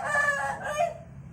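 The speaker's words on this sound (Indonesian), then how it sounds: "Jadi ngeliatin ayam-ayam yang buat rawat tarung." A fighting rooster kept for cockfighting crows once, loud and close, a short strained call that trails off.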